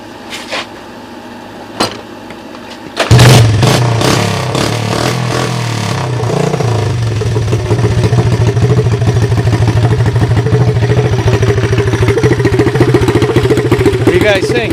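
A Honda ATC 200S three-wheeler running on a makeshift CDI ignition fires up and settles into a loud, close, steady throttled engine rattle, with a few knocks beforehand.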